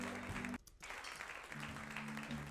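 Faint crowd noise mixed low in a broadcast background, a steady murmur or light applause with a brief dropout partway through.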